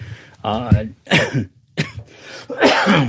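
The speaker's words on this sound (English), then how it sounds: "Sorry, I got this cough from all these allergies" Several harsh, throaty coughs come in quick bursts, close and fairly loud, with short pauses between them.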